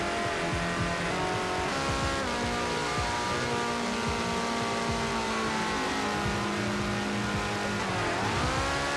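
A car launches off the line in Forza Horizon 4, its engine roaring loud and steady as the revs climb through a held gear, then dipping briefly and rising again near the end.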